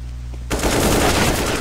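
Rapid P250 pistol gunfire in Counter-Strike bursts in loudly after a quiet half-second, a dense run of close, overlapping shots that continues to the end.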